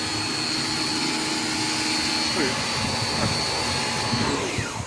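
Karcher K5 pressure washer motor running steadily with a continuous broadband whirring drone and faint tonal hum, close and loud throughout, with no voices.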